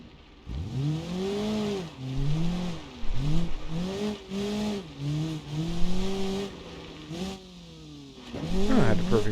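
A car in the BeamNG.Drive racing game revs hard on a dirt track, engine pitch repeatedly climbing and dropping through gear changes and drifts, loud and close, with someone talking over it.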